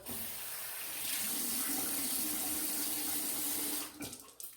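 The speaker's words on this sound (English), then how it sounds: "I'm gonna rinse off my face a little bit." Tap water runs steadily from a faucet into a sink as a man rinses his face after a head shave, a continuous close splashing flow that cuts off near the end into a few drips and light knocks.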